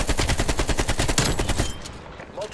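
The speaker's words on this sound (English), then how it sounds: "God, I love this AK." AK-47 rifle fire in the video game Black Ops Cold War, a loud rapid burst of evenly spaced automatic shots that stops abruptly, followed by a brief quieter tail.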